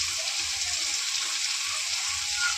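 Chopped cabbage and carrot sizzle and fry in a hot pan as a steady, close hiss with no talk.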